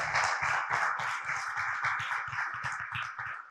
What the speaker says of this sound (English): So first off, big round of applause for all of you for an amazing summit.